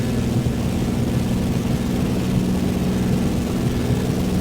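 A propeller airplane droning steadily in Microsoft Flight Simulator 2024 on a rainy Nairobi, Kenya flight, a continuous low engine hum with propeller buzz, constant and loud, with no talk.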